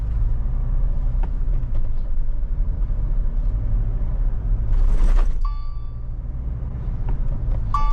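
A Mahindra Thar on a rough, uneven Maharashtra road gives a steady low rumble of engine and tyres, with a brief louder jolt midway and some thin rattling around it.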